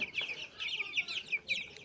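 Twenty-day-old Tiger breed chicks cluck in a steady run of short, high-pitched calls, several overlapping, close by and fairly loud with no talk.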